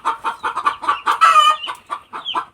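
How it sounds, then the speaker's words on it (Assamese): A hen clucks in quick, rhythmic bursts before laying eggs, close and clear with a rising cackle partway through, and no voices. "আকৌ কণী পাৰিবলৈ সেয়া কক কৰিয়ে আছে"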